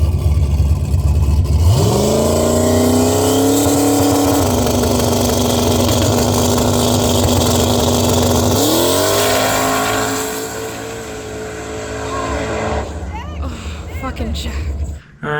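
A drag race car revs up loudly at a street drag race, then roars down the strip in a long, sustained high-power pass, the engine note rising through gears before fading away.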